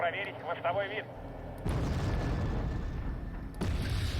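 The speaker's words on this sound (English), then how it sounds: "they're just gonna pummel that rifleman squad with these rockets and take it out" Rocket barrage from attack helicopters in the real-time strategy game Wargame: Red Dragon, striking an infantry rifleman squad: a loud, dense rumbling burst of explosions that keeps roaring for several seconds, with a further blast near the end, following a brief stretch of speech.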